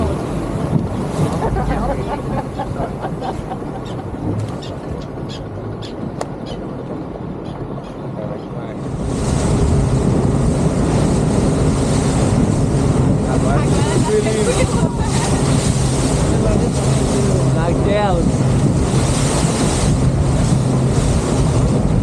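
A boat heading out on a choppy sea off Nusa Penida, with steady engine and wind rush that grows louder and denser midway, water churning throughout and voices talking over it.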